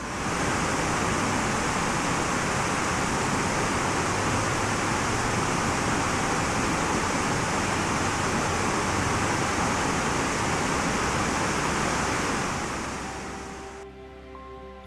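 Selfoss waterfall in Iceland roars as a steady, loud, broadband rush of falling water that stays constant for most of the stretch before easing near the end.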